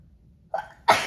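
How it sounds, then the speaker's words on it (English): A woman sneezes nearby, giving a short sharp intake followed by a loud burst, indoors at a crafting table. "I have to sneeze, sorry."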